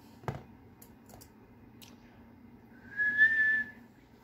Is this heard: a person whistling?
yes